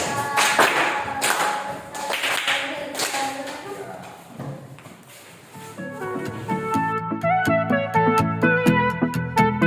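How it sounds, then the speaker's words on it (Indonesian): Students in a primary school classroom clap for a group returning to their seats, a few loud bursts of claps up close that fade out, followed by a voice and tonal sounds. "Berikan tepuk tangan yang meriah."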